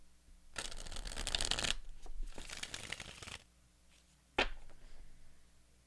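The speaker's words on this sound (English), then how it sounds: "Let's see what comes out with this double major oracle deck." A double major arcana oracle card deck is shuffled in two crisp, riffling bursts close up, followed after a pause by a single sharp snap of the cards.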